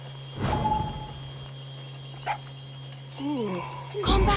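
Chorizo, the small dog companion in Far Cry 6, gives a few short yips and barks, including a brief one near the middle and a louder burst at the end, over a steady low hum with some game voice nearby.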